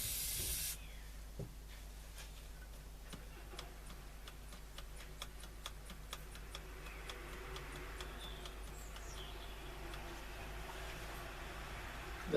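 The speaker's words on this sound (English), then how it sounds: "I'll try and cure with a Dorset switch cleaner, which is here." Dorset switch cleaner sprayed into an old Ecko U241 valve radio: a steady aerosol hiss runs throughout over a faint background hum, with small ticks and clicks scattered along it.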